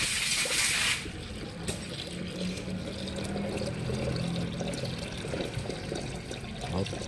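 Water poured into the engine of a Honda City Type Z under repair, a continuous trickling and splashing stream after a brief louder rush at the start, near and moderate.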